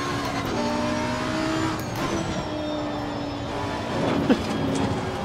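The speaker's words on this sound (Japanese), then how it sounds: "後ろから車来た。" A race car approaching from behind in the Assetto Corsa 2 racing game: a sustained engine roar with shifting pitch and tire noise, growing a little louder toward the end.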